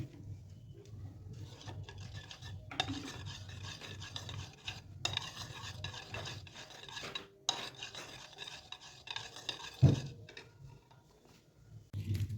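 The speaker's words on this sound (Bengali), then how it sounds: "অল্প একটু জল দিয়ে সেটাকে ভালোভাবে মিশিয়ে নেব" Tomato ketchup, soy sauce and a splash of water stirred together in a bowl for cauliflower Manchurian: a steady close scraping and rubbing of a spoon against the bowl, with a brief clink near the end and no talking.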